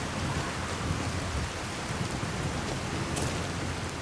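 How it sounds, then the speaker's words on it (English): Steady rain in the video game Skyrim, a dense even hiss of falling rain filling the scene, loud and continuous with no voices. "Put on our little hood, because it's raining."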